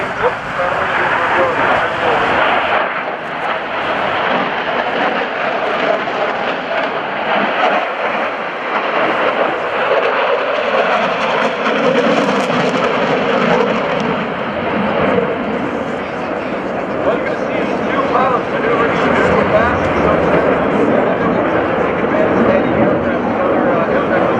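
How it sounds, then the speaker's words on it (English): Two F/A-18 Super Hornet jets approach at a naval air station airshow with a loud, continuous broadband roar that swells and rumbles throughout, while a voice talks underneath. "Approaching now are 2 A-18 Super Hornets, flown by A-81"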